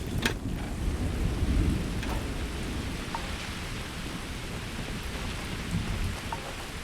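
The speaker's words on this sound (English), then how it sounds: "Freezing liquid thunderstorm." A freezing liquid thunderstorm in the video game Starfield: steady heavy rain hisses over low rolling thunder rumbles, with a few sharp crackles, loud and continuous.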